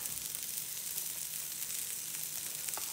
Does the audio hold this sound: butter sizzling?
yes